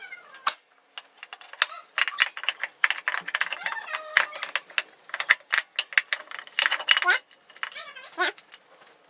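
A ratchet clicking in short bursts during valve adjustment on an Aprilia Scarabeo 500 scooter, close rapid ratcheting and metallic clicks interspersed with pauses.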